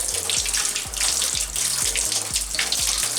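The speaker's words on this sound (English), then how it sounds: "clean it under water to get rid of any solution of it" Electroplated parts from a 1995 Trek 7000zx bicycle rinsed under a running tap: steady, close hiss of flowing water with a few soft low knocks, no talk.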